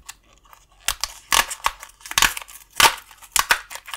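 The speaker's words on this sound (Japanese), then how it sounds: "では、早速開封したいと思います。" A ballpoint pen package, an Alpha Gel grip pen, being opened by hand, with several sharp crinkling, snipping and tearing bursts spaced irregularly over a few seconds, close and fairly loud with no talk.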